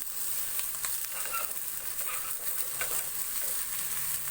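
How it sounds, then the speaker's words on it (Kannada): Horse gram dropped into hot oil with fried onion in a village-style kitchen, giving a steady bright sizzle with scattered stirring scrapes and crackles throughout, close and continuous, with no voices. "ಇವಾಗ ನಾನು ಹುರುಳಿ ಕಾಳು ಹಾಕೋತಾ ಇದ್ದೀನಿ"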